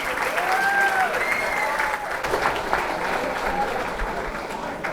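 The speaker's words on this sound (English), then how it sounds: "Big hand of applause to Dan and the staff at Key Store" Dinner audience applauding at a sports hall of fame awards banquet, a dense, steady wash of clapping that fills the room, with a few whistles cutting through and faint voices beneath.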